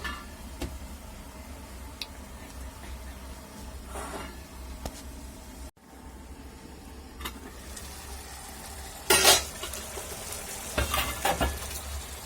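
Potatoes and fenugreek leaves sizzle steadily in a covered pan, a continuous soft frying hiss with occasional ticks and a louder clatter near the end, no voices present.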